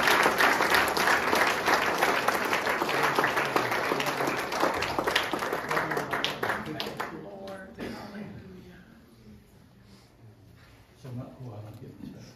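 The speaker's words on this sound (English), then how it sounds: "Would you give the Lord a clap offering of praise this morning?" A church congregation gives a morning clap offering of praise, a loud, full round of applause that gradually fades into scattered claps and murmuring voices.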